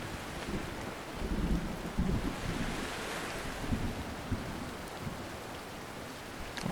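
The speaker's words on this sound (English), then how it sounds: "And it's raining." Steady rain in the Voyagers of Nera video game, a broad continuous hiss with low rumbling swells and gusts like distant thunder and wind, moderately loud throughout with no talking.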